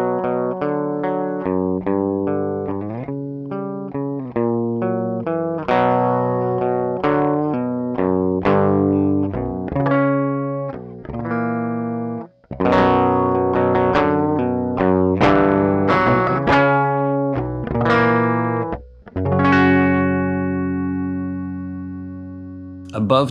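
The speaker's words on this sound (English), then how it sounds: "At around 12 o'clock, you get that top boost Vox sound, very bell-like and bright." Fender Bass 6 played through a Joyo AC Tone pedal set for a bright, bell-like top boost Vox tone, with chiming picked notes and chords ringing out in a steady, close, effect-coloured phrase with no talk over it.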